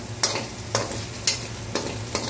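Garlic and onion sautéing in hot oil in a pan, a steady sizzle broken by four sharp scraping stirs spaced about half a second apart, close and fairly loud.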